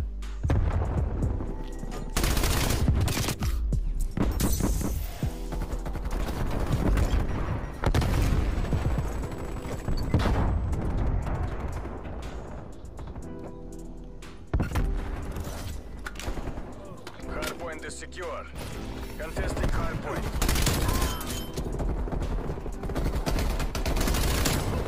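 PPSh-41 submachine gun fire in Call of Duty: Cold War multiplayer Hardpoint, loud rapid automatic bursts repeating throughout amid other gunfire and game effects, with talk over the action.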